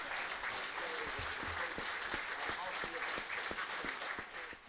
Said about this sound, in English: we're getting a minute's applause now on 6 minutes for Arthur Lambinjo-Hughes, who passed away.